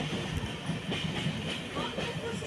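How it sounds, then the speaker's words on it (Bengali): A passenger train pulls away and runs on at night, a steady rumbling roar with faint clattering heard from inside the carriage, continuous and fairly loud with no talking. "তো ট্রেন ছেড়ে দিয়েছে।"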